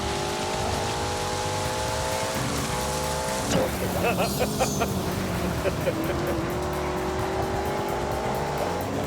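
BMW car engine at full throttle in a racing video game, a steady droning tone with shifting pitch running throughout, briefly broken by a burst of crackling noise midway before the drone returns; talk may sit underneath.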